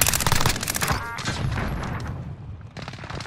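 Rapid automatic gunfire in the video game Call of Duty: Warzone, with loud bursts of fast repeated shots at the start and again at the end, separated by a quieter stretch of distant action.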